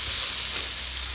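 Sliced ridge gourd frying in oil in a pan, a continuous close hiss and sizzle with a steady, even level and no talking.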